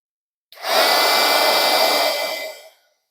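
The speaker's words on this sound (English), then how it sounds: "That's okay. I can just heat it again." A heat tool blows hot air over embossing powder on a photo, a steady loud whooshing blower hum that starts abruptly, holds for about two seconds and then cuts off, with no talking.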